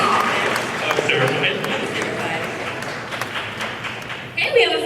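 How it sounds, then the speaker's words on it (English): An audience at an anime convention idol singing contest claps for a performer, steady mid-level applause with crowd noise and voices talking over it, a louder burst near the end. "Let's get another round of applause for you"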